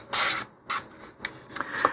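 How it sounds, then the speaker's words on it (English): Sandpaper rubbing back and forth along the edge of a model rocket fin, heard as short raspy strokes, one long and then several quicker, close and fairly loud with no talk. "either by moving the fin or moving the sandpaper or both here, now I just go back and forth"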